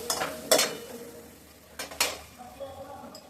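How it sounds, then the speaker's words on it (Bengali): A spoon scrapes and taps against a pan as milk powder and water are stirred into a simmering curry, with several quick strokes over a faint sizzle, close and clear, and no talking. "তো আমি দুধ পাউডার ছড়িয়ে দিয়ে একটু নেড়ে চেড়ে দিচ্ছি, আর একটু জল দিয়ে দিচ্ছি"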